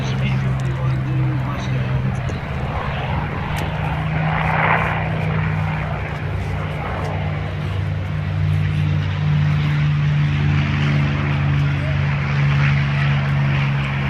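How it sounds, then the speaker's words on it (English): A P-63 warbird lifts off at a World War Two weekend air show, its propeller engine a loud, steady droning roar that holds throughout, with voices talking over it. "Here is the P-63 lifting off, going to join the fighter formation."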